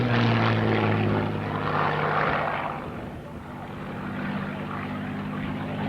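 A Hawker Hurricane Mark 2C with its Merlin engine roars past at an airshow, a loud, steady propeller drone that swells and then eases slightly as the fighter passes.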